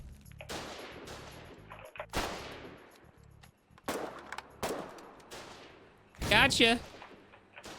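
Gunshots in Foxhole, a handful of sharp, loud cracks spaced a second or so apart with decaying tails, followed by a burst of crackling near the end; a voice speaks briefly.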